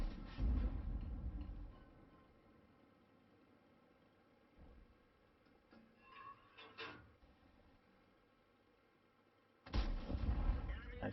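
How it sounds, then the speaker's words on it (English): Tank gunfire in World of Tanks, with a Tier X Leopard 1 in play: a heavy booming cannon shot at the start, a few quieter distant reports in the middle, then another loud blast near the end, with talk faintly underneath. "Now they're blind firing the bushes."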